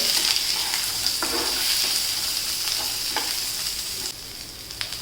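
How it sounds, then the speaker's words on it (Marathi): Dry coconut, onion and peanuts roasting in hot oil in a pan for a stuffed capsicum dish, a steady close sizzle with occasional stirring scrapes throughout, no talking. "अगोदर खोबरं कांदा शेंगदाणे हे आपण भाजून घ्यायचे आहे"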